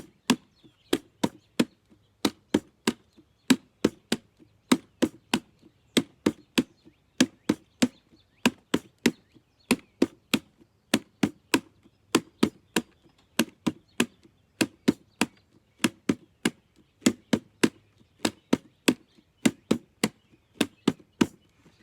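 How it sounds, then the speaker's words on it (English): Steady hand drumming on a hard surface, sharp woody taps in a repeating rhythmic pattern, clear and close, with no voices. "you can also just use one hand to drum. You can use both hands to drum"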